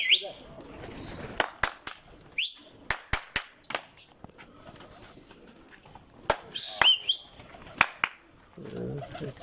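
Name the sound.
pigeons released, wings flapping and cooing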